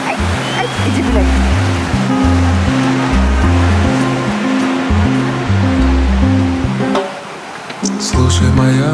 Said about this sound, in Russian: Слушай, моя море.